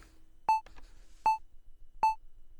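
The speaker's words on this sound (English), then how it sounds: "And if we need a metronome, we go function, metronome, and on." Metronome of a Behringer CZ-1 synthesizer ticking three times at an even pace, each a short bright beep over faint background hiss.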